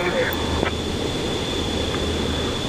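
An airliner taxiing in Microsoft Flight Simulator 2024, a steady low engine drone with a faint constant high whine, continuous and even throughout.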